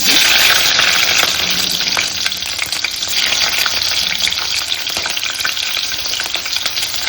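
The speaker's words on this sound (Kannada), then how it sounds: "ಸಾಸಿವೆ ಹಾಕ್ತೀನಿ, 1/4 ಸ್ಪೂನ್ ಸಾಸಿವೆ. ಮೆಣಸಿನ್ಕಾಯಿ 4ರಿಂದ 5 ಹಸಿಮೆಣಸಿನ್ಕಾಯಿ ಹಾಕ್ತಾಯಿದ್ದೀನಿ" Mustard seeds and green chillies crackle and spit loudly in hot oil for a pumpkin palya, a dense close sizzle that eases slightly but continues throughout with no speech.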